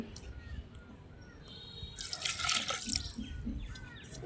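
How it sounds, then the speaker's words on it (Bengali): A little water is poured into a freshly washed wok while cooking chicken biryani, giving a quiet trickle and splash that swells briefly in the middle, with faint kitchen clatter around it. "কড়াটা ধুয়ে একটু পানি দিয়ে দিলাম"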